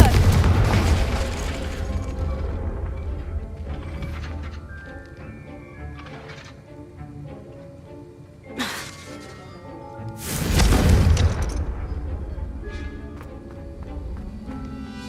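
Confringo explosion spell cast in a video game: deep booming blasts with shattering bursts and whooshes over a layered musical score, with the largest blast landing partway through.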